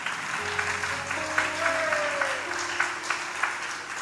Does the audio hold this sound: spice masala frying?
no